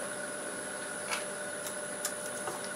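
A wood lathe spins a big walnut slab bowl at 820 RPM, giving a steady, even hum with a thin high whine, plus a few faint ticks and taps scattered over the short stretch.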